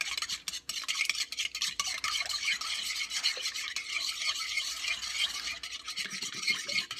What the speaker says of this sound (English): I'm going to just beat that up just a little bit